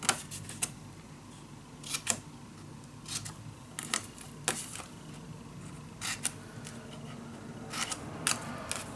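Scissors trimming the corners of paper pieces for a mini album, sharp separate snips spaced a second or so apart over a soft background, with no voices.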